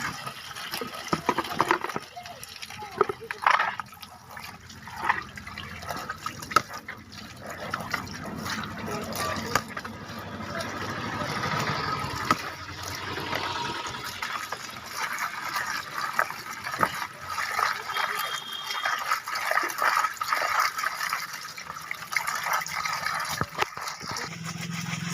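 Liquid is poured over fish, a loose splashing and trickling that comes and goes amid household background noise and occasional knocks.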